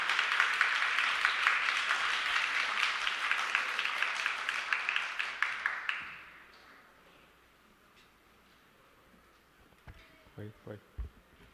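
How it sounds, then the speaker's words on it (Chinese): A church congregation at a Sunday service applauds to welcome speakers, with loud, dense clapping that lasts about six seconds and then fades. A few faint voices and knocks follow in the quiet hall. "来请来拍手欢迎"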